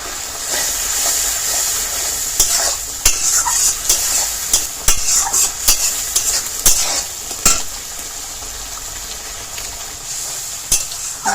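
Spice paste with Kashmiri chilli powder sautéed in hot oil for pabda fish curry, a loud sizzle broken by repeated scraping and knocking strokes of a spoon against the pan.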